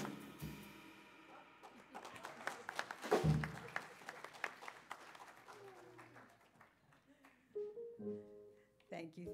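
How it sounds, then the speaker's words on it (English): A church congregation claps along at a Sunday service, a burst of rhythmic hand claps mixed with singing and voices that thins out and stops abruptly, followed by talking. "Just as we were getting into that clapping, huh? Got cut off."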